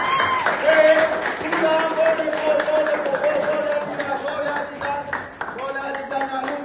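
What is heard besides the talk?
applause for Idan at celebration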